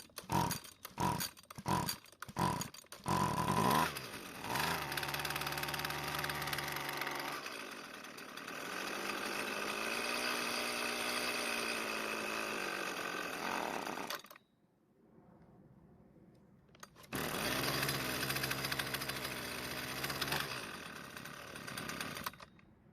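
A Husqvarna string trimmer that has sat in long storage is pull-started with several sharp rope tugs. Its small two-stroke engine catches and runs loud and close on choke, cuts out briefly, then roars again.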